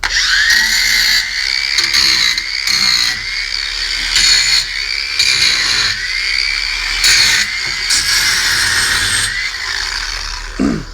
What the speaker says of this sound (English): Now I'm lazy, so I use a grinder.